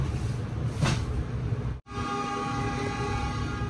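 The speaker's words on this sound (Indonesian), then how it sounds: "Ini kereta sudah diberangkatkan kembali" The Lodaya Executive passenger train rumbles close by as it departs a station in Indonesia, its horn sounding briefly, then a steady rolling drone with tonal hum as it pulls away.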